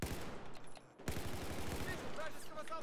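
Gunfire in a competitive team shooter match, with dense, rapid bursts of shots cracking close and loud in a continuous fusillade, a brief lull, then more fire, with faint voice chatter mixed underneath.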